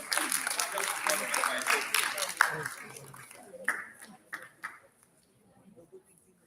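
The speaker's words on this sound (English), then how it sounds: "A round of applause for this team." Audience clapping and applauding for a school team at a youth ideathon finals, a dense burst of claps that thins into a few scattered claps and fades to near silence.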